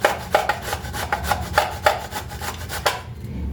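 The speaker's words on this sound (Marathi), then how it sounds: "दुधी भोपळा वरची साल काही काढली नाही खूप कवळा आहे तो दुधी भोपळा मग तसाच किसून घेणार आहे मी भोपळा" Tender, unpeeled bottle gourd is grated on a hand grater, giving a steady run of rhythmic rasping strokes, close and fairly loud, with no talking; the scraping stops just before the end.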